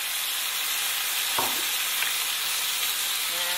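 Tomatoes hitting a hot pan of garlic give a steady, loud broadband sizzle with a brief splash as they go in and light stirring, no voices.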